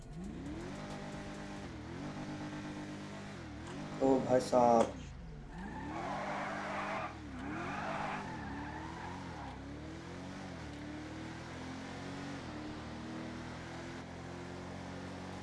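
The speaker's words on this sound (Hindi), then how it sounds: "चलो अब हम इस कार का साउंड और इस कार की टॉप स्पीड को देख लेते हैं।" A Mercedes-Benz E63 AMG in the GTA 5 video game, its engine revving and climbing through gears in repeated rising sweeps, with a brief burst of tire squeal partway through and a voice speaking briefly over it.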